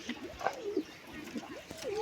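Soft, low pigeon coos repeat faintly over a quiet background hum, several short rolling calls close together.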